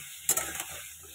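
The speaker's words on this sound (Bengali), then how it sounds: "পটলটাকে আর আলুটাকে একটু লাল লাল করে ভেজে নেবো আগে।" Pointed gourd and potato pieces frying in oil, a brief burst of sizzling and a couple of stirring scrapes, then quieter frying hiss, close and alone.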